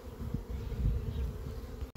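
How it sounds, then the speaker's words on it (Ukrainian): Honeybees on hive frames during an inspection give a low, dense buzzing that swells briefly in the middle, close and continuous, with no speech. "Сім рамок бджоли сидять скрізь."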